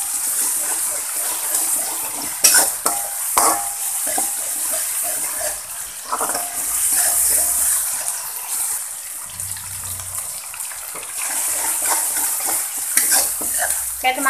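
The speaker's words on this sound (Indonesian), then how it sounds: "Kita tumis bumbunya sampai matang ya." Spice paste stir-fried in a pan for a bitter melon and tiny shrimp dish, a loud, continuous hiss with occasional scrapes and stirring knocks, close and steady.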